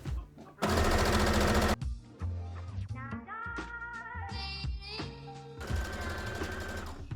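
A sewing machine runs in two bursts, basting around the edges of corset lining pieces, with quieter handling and speech-like sounds between the close, loud runs.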